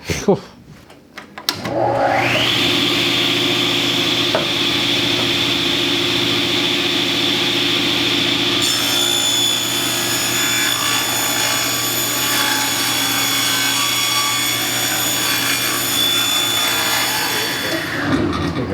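A power saw cuts old stapled wooden boards into bench slats, starting up and holding a loud, steady droning whine for about sixteen seconds before winding down, with no talking.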